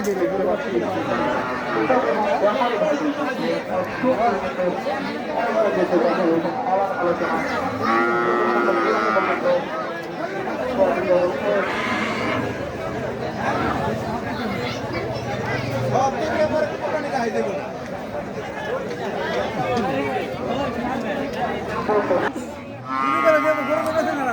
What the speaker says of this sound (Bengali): খুব সুন্দর একটা গরু দেখেন